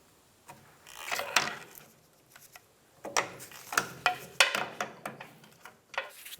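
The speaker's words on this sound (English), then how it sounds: "You're going to wiggle it back and forth while prying on the end." Pliers and a pry bar work a steering rack bushing with a metal washer out of a 2000-2006 Toyota Tundra, giving close, irregular metallic clicks, clunks and scrapes in bursts separated by short pauses.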